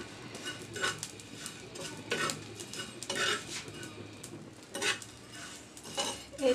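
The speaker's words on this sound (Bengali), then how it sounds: "তেলে ভাজা না, শুকনা কড়াইয়ে শুকনা ভাজা মুচমুচে" Shutki (dried fish) dry-roasted in an oil-free wok over high heat, stirred with a metal utensil: rhythmic scraping and clinking against the pan with only a faint sizzle underneath, close and fairly loud.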